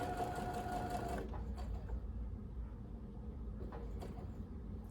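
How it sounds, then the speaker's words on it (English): Sewing machine stitching pieced quilt blocks, a brief close whir that stops after about a second, followed by faint handling clicks and room noise. "Let's get that one more stitch in there."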